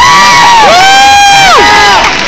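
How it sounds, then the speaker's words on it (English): A loud crowd at a Fear Factor Live show cheers and whoops, high voices rising and falling together in excited shouts, close and filling the space. "Keep that applause going for all of our volunteers."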